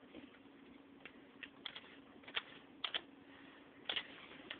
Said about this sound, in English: I'm typing the secret letter.